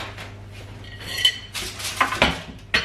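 A spatula and utensils clink and scrape against dishes while savoury yogurt with pumpkin and beets is prepared, several sharp close clinks in quick irregular succession, no talking.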